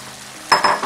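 Tomatoes and onion frying in a pan for mutton kadai, a steady low sizzle that swells suddenly into two or three louder bursts of hissing as the pan is stirred.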